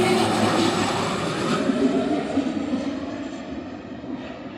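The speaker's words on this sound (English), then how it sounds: "Is it me, or do the small planes feel faster?" A small plane flies past at Vancouver airport, its engine a loud, steady drone that slowly fades as it moves away, with no voices heard.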